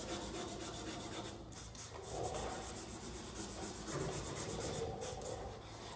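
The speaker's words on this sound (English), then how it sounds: "fresh piece of sandpaper. This is 400 grit, wet dry." A 1972 C10 truck cab in final primer is wet sanded by hand with 400 grit wet-dry sandpaper, a close, quiet, continuous rubbing rasp that rises and falls in steady crisscross strokes, with no talk.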